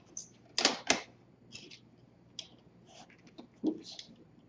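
Cutting a length of material for an architecture model at a desk, a few sharp snips and clicks spread over several seconds, close and fairly quiet with no talking.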